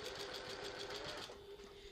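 A sewing machine stitches a tote bag seam in one steady, continuous run of close, loud motor whir and needle chatter, easing off slightly near the end.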